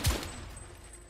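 A single loud gunshot in The Order: 1886, a sharp crack right at the start followed by a short decaying tail and ringing.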